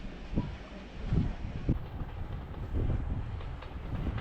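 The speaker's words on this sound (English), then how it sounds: "a burst of blue smoke denotes that our train is ready to pull into the station" Swanage Railway train pulling into a station below a castle: a low, faint rumble of rolling stock with soft rhythmic wheel knocks and some wind noise, no voices.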